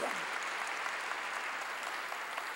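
A church congregation claps during a sermon in a continuous, even spatter of many hands, moderately distant and fairly soft, without speech.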